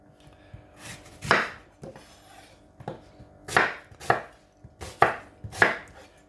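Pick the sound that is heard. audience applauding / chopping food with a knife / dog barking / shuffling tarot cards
chopping food with a knife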